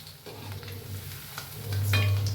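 Chicken 65 pieces frying in hot oil, giving a steady soft sizzle with light bubbling close by, swelling slightly louder near the end.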